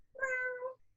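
A human voice imitates a cat with a single drawn-out meow, close and clear, lasting under a second with nothing else around it.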